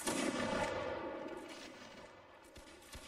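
A cannon on a hill in Mount & Blade II: Bannerlord fires with a loud booming blast that rolls out into a long echoing decay, followed by faint distant thuds.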